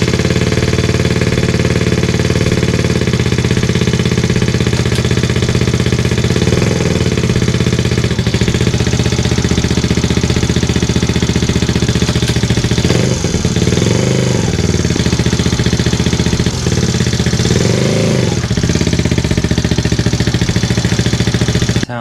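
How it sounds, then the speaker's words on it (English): A Benelli motorcycle fitted with an upgraded 6-disc clutch and stiffer springs runs close by, a loud steady idle with a few brief throttle blips rising over the constant engine drone. "and then we'll actually fire up the bike."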